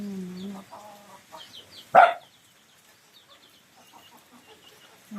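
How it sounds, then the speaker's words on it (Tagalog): Backyard chickens cluck softly in a rural countryside yard, with one sharp loud bark or squawk near the middle and scattered faint clucks and chirps around it. "Yung mga manok ko."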